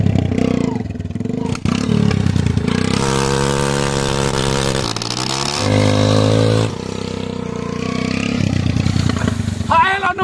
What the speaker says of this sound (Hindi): My bike is parking here now.